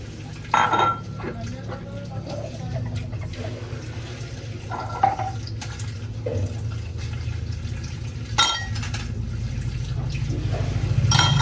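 Dishes being washed in a home kitchen sink: water running steadily from the tap with intermittent clinks and clatters of plates and utensils, close by, with occasional voice beneath.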